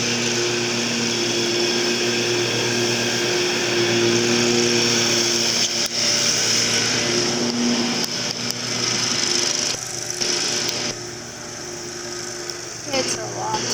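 A Z-Rider zero-turn riding lawn mower engine drones steadily and loudly throughout, a close, continuous hum with a few brief shifts in tone toward the end.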